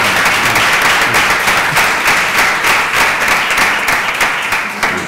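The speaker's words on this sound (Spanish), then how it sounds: "Sí, que pido un aplauso" A dense, steady wash of audience applause at a talk on new technologies for cognitive stimulation of older people, loud and continuous for the whole stretch with no voices on top.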